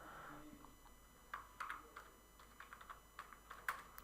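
Keys on a computer keyboard being tapped while filling in a form in Microsoft Word, with irregular light clicks in short runs, quiet and close over a faint steady hum.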